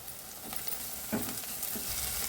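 Chopped onions frying in hot oil for a prawn and drumstick curry, a steady close sizzle with a few soft stirring bumps and no voices.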